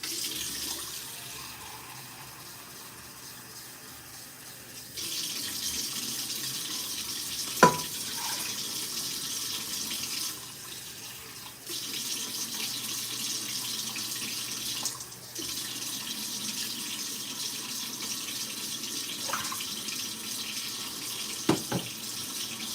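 A kitchen tap runs water to measure out cups for a potato dish, a steady hissing flow that stops and restarts several times, with a few faint clinks of a cup or sink between runs.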